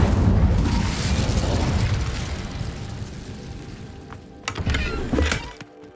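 A fire spell cast in the Hogwarts Legacy video game gives a broad, whooshing roar that fades over several seconds, followed by two sharper bursts near the end.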